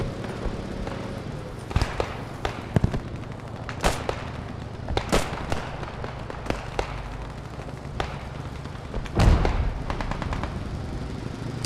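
Submachine gun bursts and scattered rifle shots in the World War II shooter Post Scriptum, with sharp cracks spread through the clip and a louder burst near the end over constant battlefield rumble.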